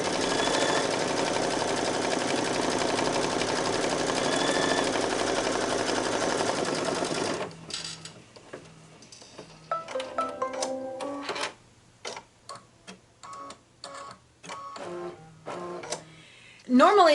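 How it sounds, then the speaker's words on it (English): A Brother embroidery machine stitching with green thread runs in a steady, dense mechanical whir for several seconds, then breaks into irregular short bursts and clicks of stitching, close and fairly loud. "I have green thread already loaded in the machine, so I'm going to put the foot down and get going"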